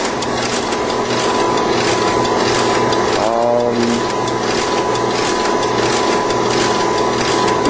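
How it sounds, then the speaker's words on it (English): A floor-standing hydraulic tie-rod press of steel construction with a recirculating lubrication system runs with a loud, continuous mechanical drone and a brief ratcheting rattle partway through. "This press is floor standing, tie rod steel construction, hydraulic tie rod nuts, and recirculating lubrication system."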